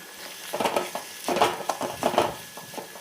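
Crushed ginger garlic paste sizzling in hot oil with browned onions for a chicken curry, with steady frying crackle and bursts of stirring and spoon scraping against the pan, close and moderately loud.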